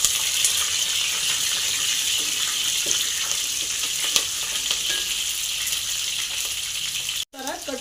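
Curry leaves and slit green chillies sizzle steadily in hot oil for a rasam, a continuous close crackling fry with faint stirring clinks, cutting off briefly near the end.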